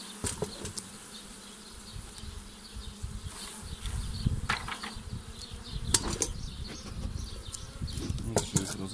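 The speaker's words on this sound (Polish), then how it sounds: "Teraz weźmiemy, troszkę zgonimy pszczółki niżej." Honey bees buzz steadily around an open beehive, a close, dense hum with occasional sharp knocks and handling sounds from the hive work.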